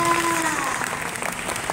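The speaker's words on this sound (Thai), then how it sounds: "ขอเสียงปรบมือนะคะกับซงจุงกีค่ะ" Fans at a Song Joong-ki fan meeting applauding continuously, a dense, steady burst of crowd clapping with some thin tonal sounds in the first half.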